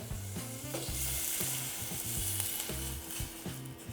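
Ingredients stir-frying briefly in a pan while making a ramen-style soup with Dashida seasoning, a steady close sizzle with rhythmic scraping and stirring strokes throughout, no talking.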